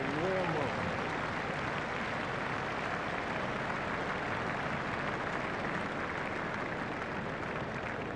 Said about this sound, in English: the crowd is giving them a warm welcome